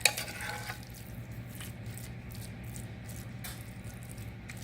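Beef and vegetables cook in a deep 3-inch-high skillet with a steady, moderate sizzle and frying crackle, close by, with a few faint clinks near the start and no talking.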